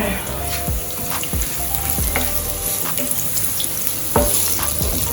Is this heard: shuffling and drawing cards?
no